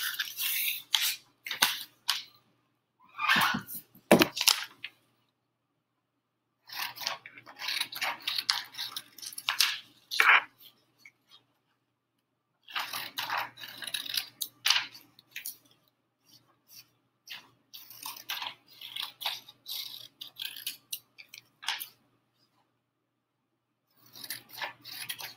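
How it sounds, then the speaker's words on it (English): Scissors cut around the outside of a paper foldable in repeated close snipping bursts, each a run of crisp rapid cuts separated by short silent pauses over a long stretch. "we are going to cut all the way around the outside"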